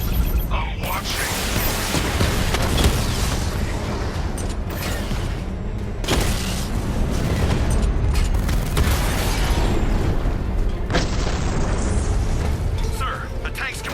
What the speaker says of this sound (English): Oh god, he destroyed the tanks!